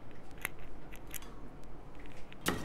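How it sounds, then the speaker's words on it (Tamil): Onions and green chillies are cut for masala vada, giving a few sharp, separated cutting snaps over a low background hum. "இதில் போட வேண்டிய வெங்காயம், பச்சை மிளகாய் இதெல்லாமே நம்ம இப்போ கட் பண்ணி அதில் சேர்த்துக்கலாம்."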